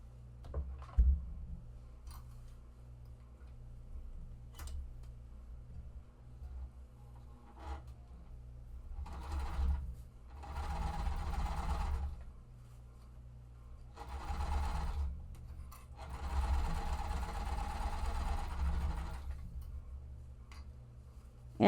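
A sewing machine stitches a quarter-inch seam on quilt fabric in several bursts of rapid motor hum and needle chatter, separated by pauses with scattered clicks and handling noises.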